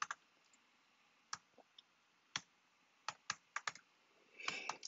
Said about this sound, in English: So I'll type in journal, and I'll type in today's date.